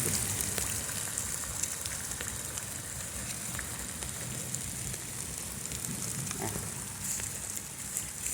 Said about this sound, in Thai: ฝนกำลังตก